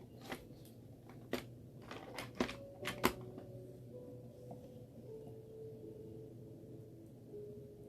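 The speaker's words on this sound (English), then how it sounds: "So I'm gonna go ahead and just snap these off too." Wooden popsicle sticks being snapped off by hand, about seven sharp close cracks in quick succession over the first few seconds, followed by quiet handling.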